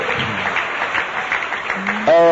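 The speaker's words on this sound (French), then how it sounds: "Acclame Jésus très fort" A church congregation applauding and cheering for Jesus, a brief burst of clapping and voices with a loud vocal shout at the end.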